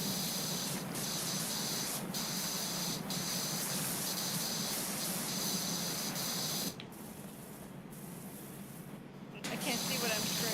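A pressure washer in Powerwash Simulator 2 sprays in a steady, loud hiss, cutting out briefly near the end before resuming, with a voice talking faintly over parts of it.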